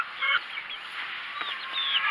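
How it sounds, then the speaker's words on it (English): A flock of Cornish cross meat chickens and barred Plymouth Rock laying hens cheeps and chatters nearby, high-pitched calls overlapping in a steady, busy murmur. "The white ones are the Cornish cross, which are the meat birds."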